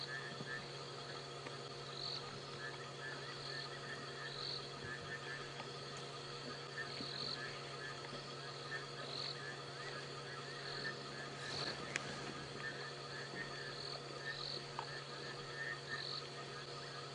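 A chorus of frogs calls steadily at night in the African bush, with a dense layer of insects and regular repeating chirps carrying through a quiet, distant-sounding background.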